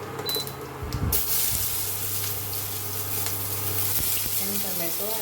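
Onions frying with cumin seeds in a pan give a steady, close sizzle, with a few stirring scrapes and clinks.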